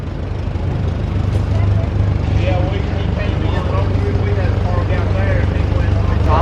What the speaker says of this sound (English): So they fire up a lot of the tractors over here.